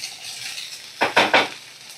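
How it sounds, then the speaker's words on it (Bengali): Soaked, drained flattened rice (chira) goes into a hot pan over a low flame, a steady light sizzle broken by three quick scraping stirs close by. "এবার আমি এই যে ভিজানো জল ঝরানো চিড়েটা দিয়ে দেব"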